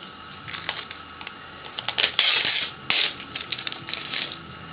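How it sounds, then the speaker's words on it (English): Plastic backing is peeled off an etched printing plate, producing a close, crackling, scratchy tearing with uneven bursts that swell and fade over several seconds, alone without talk. "But now I can print it after I strip off the plastic back."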